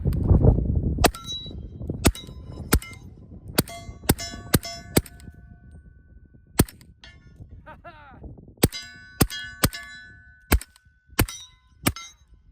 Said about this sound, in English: Initial shots, I'm loving this can.